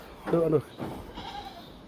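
A goat for sale at a livestock market gives one clear, near bleat, followed by fainter crowd murmur and a distant voice in the background.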